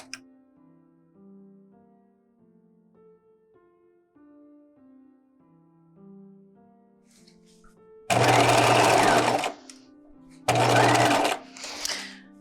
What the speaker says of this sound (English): I'm gonna follow my stitching lines rather than my seam allowance guide on the throat plate